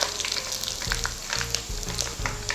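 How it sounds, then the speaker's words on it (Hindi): Sliced onions frying in oil until light brown for chicken korma, a dense, continuous sizzle with a low rumble underneath, close-up and steady throughout, no talking. "लाइट ब्राउन कलर होने तक इसको फ्राई करेंगे"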